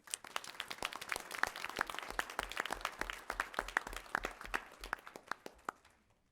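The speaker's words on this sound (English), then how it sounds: "Give another round of applause" Small group applauding at a school board meeting for the third grade team, distinct individual claps at a steady quick rhythm, moderately near, fading out at the end with no talk.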